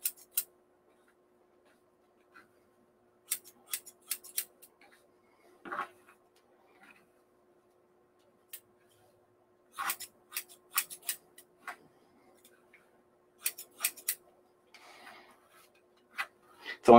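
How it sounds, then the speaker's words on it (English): Scissors snip hair over a comb in a home barbering setting, working on a mannequin, with several bursts of quick, crisp close-up cuts separated by short pauses in an otherwise quiet room. "you could also do this scissor over comb"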